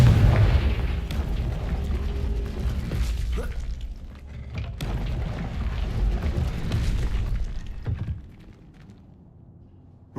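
A Confringo fire-blast spell detonates in Hogwarts Legacy with loud, booming explosions and crackling bursts that repeat over several seconds before fading into quiet.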